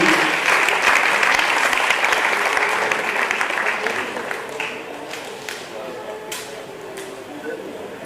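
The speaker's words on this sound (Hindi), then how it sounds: "2000 तालियां पंकज जी की" Audience applause for author Pankaj Dubey at a book launch, a dense wash of clapping from a crowd that holds steady and then slowly thins and fades toward the end, with scattered louder claps near the close.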